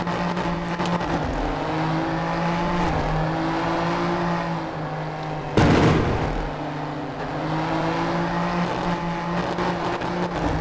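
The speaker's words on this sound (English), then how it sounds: "The engine sounds are amazing in this game" Racing car engines of a BMW M4 G82 on a track in the video game Apex Racing roar and whine steadily with shifting pitch, a sharp crash burst midway, then the engine drone continues loudly.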